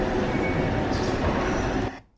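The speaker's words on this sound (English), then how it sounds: "you could see the train tracks and the train that was arriving" A train pulls into Oxford station with a steady, loud rumble of rail wheels and carriages close by, cutting off abruptly at the end.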